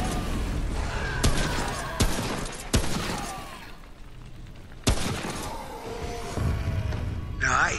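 Rifle gunfire in the co-op game Remnant comes as several sharp, loud cracks spaced a second or two apart, mixed with game noise and people talking.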